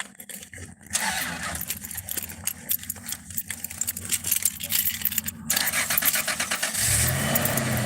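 Keys jangle, then a nearby car engine cranks and catches near the end, settling into a steady low idle under constant background noise.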